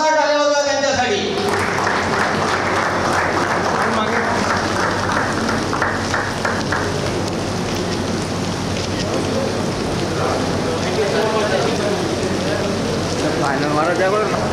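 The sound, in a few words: loud applause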